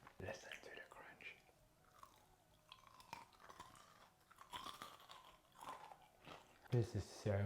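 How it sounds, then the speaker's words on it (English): Crisp bites into buttermilk fried chicken give faint, close crunches and chewing, broken up by soft speech and ending in a louder bite. "Listen to the crunch."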